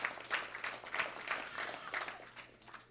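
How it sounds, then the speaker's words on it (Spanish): A church congregation claps in a rhythmic, fairly quiet pattern, roughly regular beats rising and falling, with a hum in the background. "¿Quién da un aplauso?"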